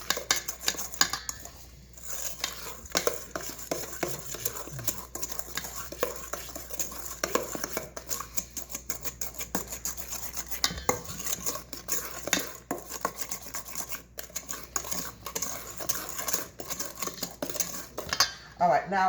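Brownie batter mixed by hand in a home kitchen, a utensil scraping and clinking against the bowl in steady, repeated strokes, close and fairly quiet, with no talking.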